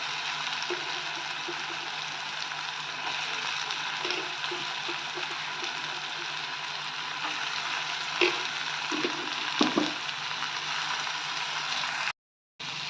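Capsicum and carrot sautéing in a pan for a sweet potato cutlet filling, a steady close sizzle and crackle of frying with occasional stirring clicks, continuous and without speech.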